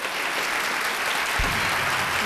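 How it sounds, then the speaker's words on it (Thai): A studio audience gives steady, dense applause to welcome Gift Cocoon onto the stage of a Thai comedy show, the clapping sustained and even across the whole moment. "เสียงปรบมือต้อนรับกิฟต์โคคูนครับ"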